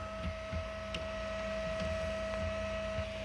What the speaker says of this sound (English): You can hear it's starting to try to feed the filament.